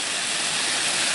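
Steady, dense hiss of water spraying as a garden is watered, like a hose or sprinkler showering plants nearby, continuous with no other sounds.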